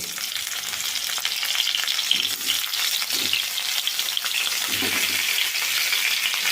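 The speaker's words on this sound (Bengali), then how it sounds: "এখন আমি এই তেলে পটলগুলো ভেজে নেব" Pointed gourd (potol) pieces, coated in salt and turmeric, fry in a small amount of oil in a covered pan, giving a steady, close sizzle throughout with a few soft low thumps of stirring.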